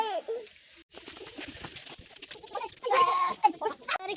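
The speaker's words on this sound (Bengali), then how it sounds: "এনে পাখি গান গায়, তাই আমি শুনতে আইলাম।" Birds calling outdoors in rural Bangladesh, with a run of cooing, dove-like notes and chirps that rise and fall over a few seconds against light background noise, fairly close and moderately loud.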